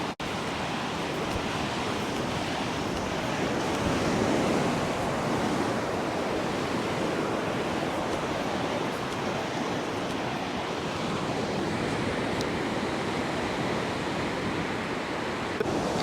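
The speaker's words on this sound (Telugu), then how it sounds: "చూసారు కదా మా బీచ్ ఏరియా ఇదండి" Ocean waves wash steadily onto a village beach, a continuous close rush of surf with wind noise and no clear breaks over the whole stretch.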